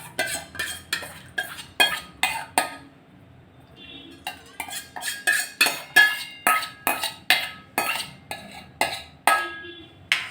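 A spoon scraping and clinking against a cooking pot while curd and rice are stirred together for the Gujarati dish ghes, a steady run of sharp, close strokes with one short pause midway.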